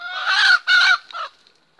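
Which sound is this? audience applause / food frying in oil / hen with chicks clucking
hen with chicks clucking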